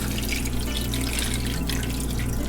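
Water poured into a cooking pot holding onions, bell pepper and oil, a steady continuous splashing rush from close by, loud and unbroken throughout.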